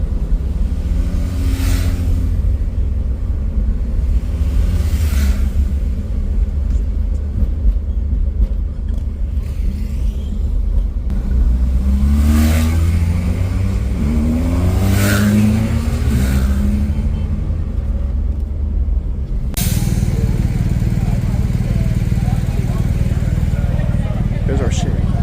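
A restored 1976 Chevy Nova police car engine runs with a steady low drone as it rides in a Christmas parade in Chino Valley. The engine pitch rises and falls in a few revs, and a voice talks over it.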